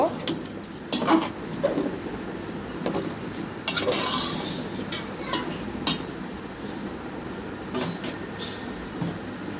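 Papaya and potato pieces are stirred together in a pan with country chicken, repeated scraping and clattering of a spoon against metal, close and fairly steady, with light background noise.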